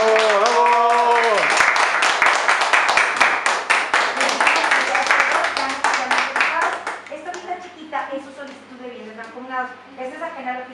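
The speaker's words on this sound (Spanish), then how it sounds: "Un aplauso para la madre. ¡Bravo!" Guests at a civil wedding ceremony in Ramos Arizpe, Coahuila break into loud, dense clapping for the newly declared couple, rising after a voice and thinning into scattered claps with voices calling out as it fades.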